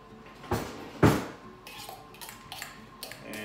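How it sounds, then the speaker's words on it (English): A fork clatters against a dish while mayonnaise and mustard are mixed for an egg recipe, with two sharp clinks up front followed by softer, repeated scraping taps. "I'm going to mix it with a fork"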